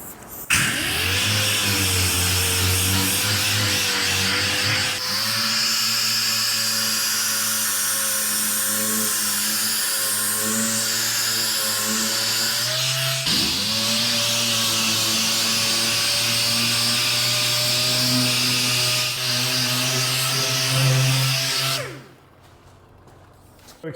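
Power sander with 80 grit paper working a brand new Datsun 240Z quarter panel, a steady loud high whine with shifting pitch that briefly drops and restarts midway, running continuously before cutting off near the end.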